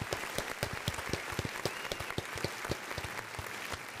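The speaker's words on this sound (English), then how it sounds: "we're gonna give Chief Frazier a round of applause" A crowd gives a round of applause for Chief Frazier at a Macon County sheriff's event, steady dense clapping from many hands, moderately close and continuing throughout.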